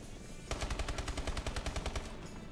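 Rapid automatic gunfire from Call of Duty Advanced Warfare during a GameBattles match: a loud, steady stream of evenly spaced shots runs for about a second and a half, then stops abruptly.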